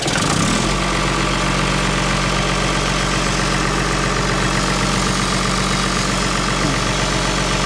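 An engine idling in a workshop, a loud, steady low throb with a constant rhythmic chug, unbroken and close by, with no speech over it.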